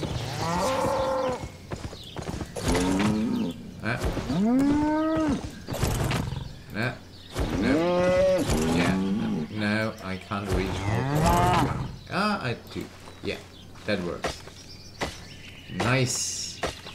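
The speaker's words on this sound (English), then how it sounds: "Moo again. I love that mooing." Cows mooing in the video game Albion Online, a series of loud, drawn-out low moos repeating throughout, with someone talking in between the calls.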